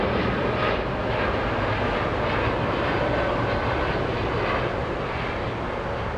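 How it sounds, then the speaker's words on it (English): A Boeing 787 Dreamliner airliner taking off at LAX, a loud continuous broadband jet roar that stays steady and heavy across the whole stretch, heard from nearby with no talk. "there goes the Dreamliner"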